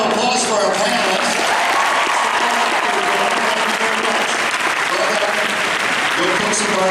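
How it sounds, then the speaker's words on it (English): A Phoenix Comicon panel audience claps in sustained, dense applause that stays loud and even from start to finish. "Big round of applause for our panelists."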